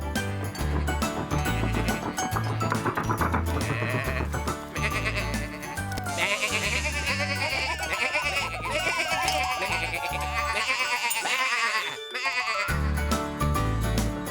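Cartoon sheep bleat repeatedly over a busy, loud musical score in a farm scene with a bell nearby, the calls rising and falling at full volume throughout.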